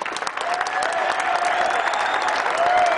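Boosters and school officials give sustained loud applause at a press event introducing a new basketball coach, dense clapping with some cheering and no pauses.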